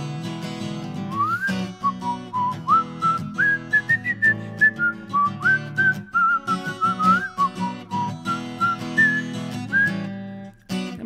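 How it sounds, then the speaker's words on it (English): A person whistles a melodic tune in clear, sustained phrases with short gaps between notes, loud and close, over a soft instrumental backing. "And it's another whistling song."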